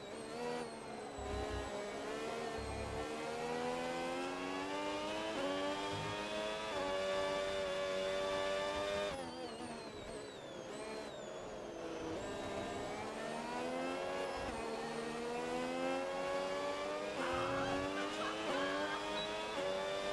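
Engine of an F1 race car in the F1 26 video game: a high-pitched whine climbs steadily through the gears, dips sharply at an upshift into 8th, then rises again over continuous game audio, with no talk.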